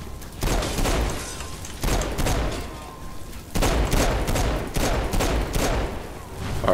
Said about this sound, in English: Lots of people are shooting at me.